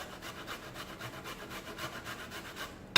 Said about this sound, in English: I'm gonna grate this inside the potato here.